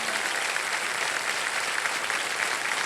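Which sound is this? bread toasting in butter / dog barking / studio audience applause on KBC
studio audience applause on KBC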